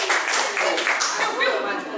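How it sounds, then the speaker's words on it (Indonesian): An audience at a school teacher-training session claps for the presenters, a short burst of applause with voices mixed in. "Kita kasih tepuk tangan dulu."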